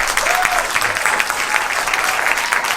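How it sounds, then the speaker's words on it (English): An audience applauds the artists after an Indian Kathak dance performance, a full, sustained burst of clapping from a sizable crowd with a faint voice briefly under it. "Another round of applause for all the artists."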